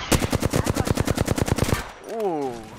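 Rapid video game gunfire, a fast rhythmic burst of about fifteen close shots over nearly two seconds, followed by a brief descending electronic tone.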